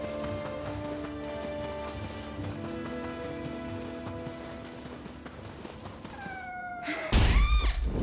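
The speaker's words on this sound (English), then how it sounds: "let's try to get the cat for real this time" A cat in the Nioh 3 video game gives a loud, close meow near the end, rising out of steady rain-like ambience and sustained background tones.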